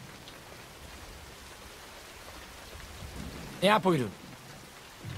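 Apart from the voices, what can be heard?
rain falling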